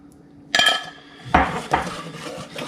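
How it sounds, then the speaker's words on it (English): Pulled pork macaroni and cheese stirred in a metal pot, a few sharp clinks and scrapes of a utensil against the pot spaced about a second apart, close and fairly loud, with no talking. "I'm just going to keep stirring this in, keep working it for a couple minutes"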